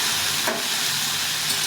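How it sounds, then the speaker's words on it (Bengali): Dried chilies, nigella seeds and radhuni spice sizzle in hot oil as a tempering, a continuous close, bright hiss of frying with no break. "ফোড়ন দেবো, লঙ্কা দুটো, এই কালো জিরে আর কিছুটা রাঁধুনি দিয়ে তরকারিটাকে ছেড়ে দেবো।"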